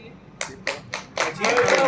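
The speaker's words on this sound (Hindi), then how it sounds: "जो तालियां बजाएंगे उनके लिए, उनके टीम के लिए मजबूत ताली बजाइए इस ऑफर के लिए" Audience clapping at a motivational seminar, starting as a few separate claps and then swelling into brief continuous applause, close and fairly loud.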